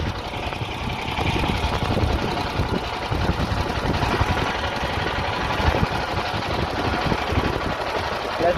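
A dune buggy engine runs at full throttle, a steady dense mechanical roar with a busy rattling chatter that holds loud and constant throughout, with no break in the drone.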